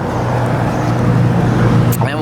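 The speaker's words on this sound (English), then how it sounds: "Don't know the blue car leaving too." A blue car pulls away over a steady roadway rumble that carries the traffic noise throughout, with a brief higher chirp right at the end.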